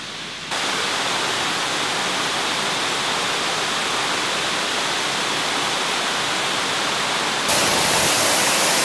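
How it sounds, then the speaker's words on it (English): A waterfall roars steadily and loudly near the camera, a dense unbroken rush of falling water with no talk, growing slightly brighter and harsher near the end. "I don't think I've ever actually been to this waterfall."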